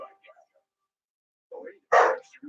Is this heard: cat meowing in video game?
no